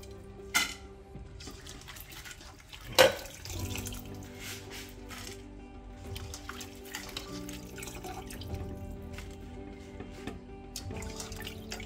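Tap water runs softly into a sink while live grasshoppers are washed, a steady quiet stream with a couple of sharp knocks and small drips near the start.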